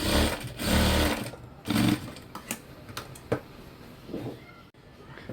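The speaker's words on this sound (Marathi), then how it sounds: "आता अशाच रीतीने यावरती शिलाई करायची आहे" Sewing machine running a half-inch line of stitching along a tucked fabric belt, in several loud, close bursts of whirring with brief pauses between.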